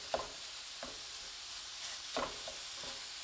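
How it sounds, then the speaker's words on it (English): A spatula scrapes and mashes grass-fed ground beef for Sloppy Joes in a pan, giving a few separate scraping strokes over a soft, steady sizzle, close and fairly quiet with no talking. "you're going to take a spatula and just kind of mash all this burger meat up"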